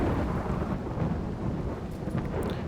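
In the video game RimWorld, steady rain hisses over a low, rolling rumble of thunder, a dense continuous wash of storm sound with no voices.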